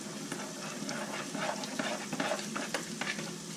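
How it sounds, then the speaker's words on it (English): Beef stroganoff mixture is stirred in a pan, with soft scraping and a steady background sizzle and occasional light clicks of the utensil, up close and without talk. "You just mix it around"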